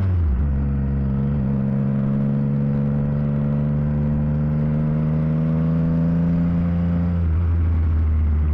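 A Triumph Tiger 660 motorcycle engine and exhaust hum under throttle in a steady, close rumble whose pitch creeps slightly upward before settling back down.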